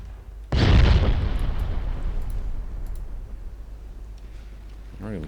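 A naval gun salvo in the warship game Ultimate Admiral Dreadnoughts, set in 1953, fires as a single loud, sudden boom that rolls into a long fading rumble and trails off over several seconds.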